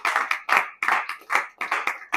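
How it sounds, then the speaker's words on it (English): Clapping from an audience at a press conference in Abuja, a run of loud, distinct, uneven bursts of hand claps spaced about a quarter second apart, close and without talk. "You were clapping for my VC."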